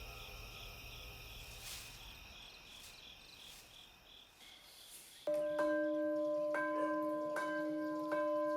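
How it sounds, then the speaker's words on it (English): Crickets chirp steadily, then a church bell in Sisaket Province begins pealing on a morning, loud and resonant, with strikes roughly every second ringing over the insect chorus. "The bell peals every morning in Sisaket Province"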